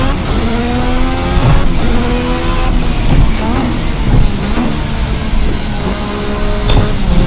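The 1986 Formula RSS V6 race car engine in Assetto Corsa revving hard and continuously, loud and close, its pitch sweeping up and down through repeated throttle rises toward about 9,500 rpm.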